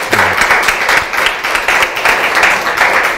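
An audience gives a hearty round of applause, dense and fairly loud clapping from many hands that holds steady throughout.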